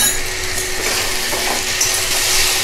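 Cabbage curry being stir-fried in a pan, a loud, even sizzle running throughout with faint stirring scrapes.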